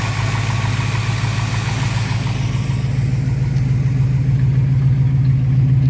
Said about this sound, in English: Fires right off and idles with no choke.